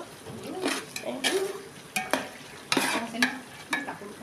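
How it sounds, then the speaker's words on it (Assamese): Chopped onions frying in hot mustard oil, stirred with a utensil that scrapes and clinks against the pan in short bursts over a steady sizzle, close and alone. "তেল গৰম হোৱাত এয়া দি দিছোঁ পিঁয়াজখিনি পূৰা ব্ৰাউন কালাৰ নোহোৱালৈকে ভাজি থাকিব লাগিব"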